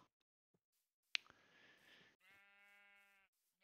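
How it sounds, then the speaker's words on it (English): A sheep in the video game Minecraft gives one clear, nasal bleat near the end, with a short harmonic waver. Just before it comes a sharp click and a brief burst of game noise, over a quiet background. "Ooh, nice sheep."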